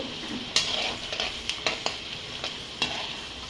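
Urad dal fries in hot oil for a puliyogare gojju, a quiet, steady sizzle punctuated by several sharp ladle-against-pan clicks while stirring, close and with no speech.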